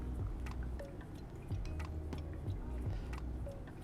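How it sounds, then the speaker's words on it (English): Hot water is poured in a 50 gram pour over ground Colombian coffee in a Kalita 185 dripper, making a soft, close, steady trickle with faint drips throughout and no talking. "let's hit it with another 50 gram pour"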